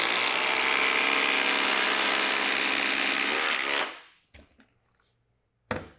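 FLEX and Milwaukee Gen 3 impact drivers hammer fasteners in, a loud continuous rattling burst lasting nearly four seconds that stops abruptly, followed by quiet with a couple of short knocks.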